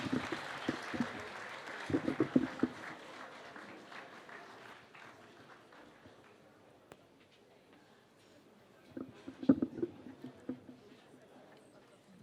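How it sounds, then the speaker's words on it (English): An audience at a Nairobi tower launch claps to welcome the President, a fairly faint, scattered applause that thins out and then swells briefly again, with some voices mixed in. "please welcome His Excellency the President with a lot of applause"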